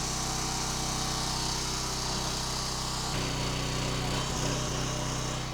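A Split-Fire log splitter's small engine drones steadily up close while it works through a large log, the pitch dropping as the load increases partway through.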